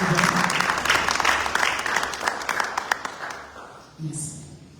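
A seated crowd applauds at a press conference in Brussels, dense clapping that builds and then thins out over a few seconds, followed by a brief murmur.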